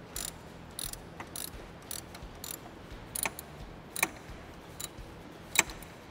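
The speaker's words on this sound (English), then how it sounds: "We'll just snug these up a little bit." A ratchet snugs 10 mm bolts on a Ford F-150 thermostat housing, giving faint, sparse clicks and short ratcheting bursts against a quiet background.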